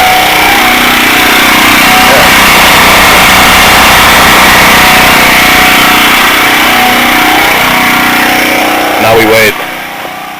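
A portable generator under load keeps running steadily after its fuel shut-off, a loud, close engine drone that sputters and falters before dying away, with a person speaking briefly near the end.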